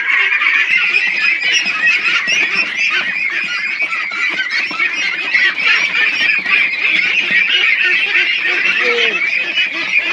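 A large flock of Pekin ducks on a farm, being caught one by one for duck plague vaccination, honks and quacks loudly and continuously at close range, many overlapping calls forming a dense, unbroken chorus.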